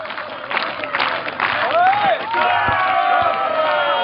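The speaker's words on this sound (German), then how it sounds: "Applaus für unseren David." A small crowd claps and cheers for the winner of an Easter egg knocking contest at a sauna specialist's event. The applause is steady and close for about four seconds, with voices calling out over it.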